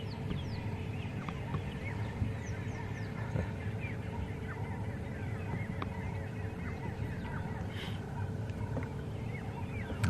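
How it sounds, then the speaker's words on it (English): Babblers call in an outdoor bush setting during a morning safari drive, a continuous chattering chorus of overlapping bird calls at moderate distance over a steady low rumble. "Babblers."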